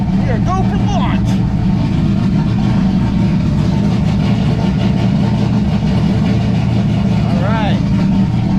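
A third-generation Camaro Z28 engine idles with a loud, steady, deep rumble that never lets up, and voices can be heard over it.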